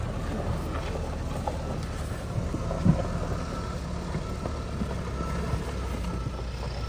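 A massive tractor's engine drones steadily while pulling a rare 1977 Datsun 620 dually pickup with a camper, a continuous low rumble mixed with wind buffeting the microphone, with no voices over it.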